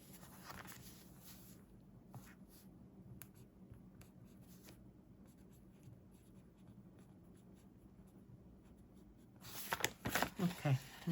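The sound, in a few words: pen writing on planner paper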